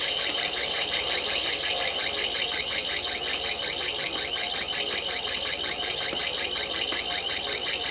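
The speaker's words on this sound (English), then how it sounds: "the lights flash faster and faster, then alarm sounds start going" A continuous pulsing electronic alarm from a Millennium Falcon-shaped toy guitar, with a rapid, even warble that stays loud and unchanged throughout and no other sounds over it.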